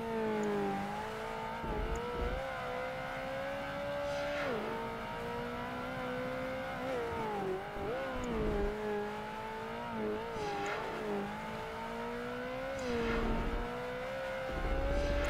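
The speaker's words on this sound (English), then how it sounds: "This Ferrari is struggling in this weather." A Ferrari engine revs and shifts in the Project Gotham Racing 2 racing video game on a wet track, a loud continuous whine rising and dropping through gear changes, close and steady without speech.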